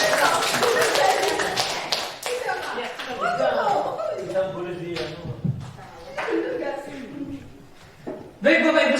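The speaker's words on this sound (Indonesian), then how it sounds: "Ya, beri tepuk tangan." Audience of teachers at a school training session clapping: scattered, uneven claps mixed with chuckles, with people talking over them and a louder burst near the end.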